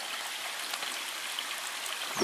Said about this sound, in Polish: Szlak narciarski i strumyczek sobie płynie.